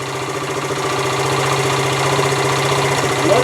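Honda TL 125 motorcycle engine idling after a points and timing adjustment: a loud, close, steady rapid putter that stays even the whole time.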